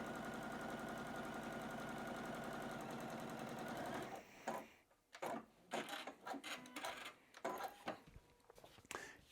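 A sewing machine stitching half square triangles for a quilt runs in a steady, fast whirring drone for about four seconds, then stops, leaving a string of clicks and fabric handling noises.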